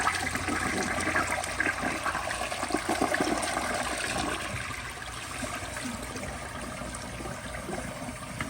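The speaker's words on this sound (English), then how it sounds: "now I'm gonna do another flush, but I'm gonna hold the handle down until all the water in the tank is emptied." A 2012 General De Ceramica toilet flushes with its handle held down, giving a loud, steady rush of draining water that runs the whole time and eases slightly toward the end, with no voices.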